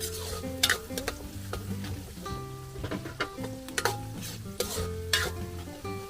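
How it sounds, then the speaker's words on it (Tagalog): Onion and garlic sauté in a pan for beef-lung bopis, a soft sizzle broken by repeated sharp scrapes and taps of a spoon stirring against the metal; no one speaks. "Babanguhin lang po natin yung sibuyas at bawang."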